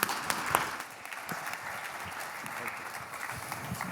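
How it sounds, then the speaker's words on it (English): Conference audience applause welcoming a session moderator, a steady spread of clapping hands in a medium-sized hall, moderately loud and continuous for a few seconds, with faint murmurs beneath. "Let's give him a round of applause."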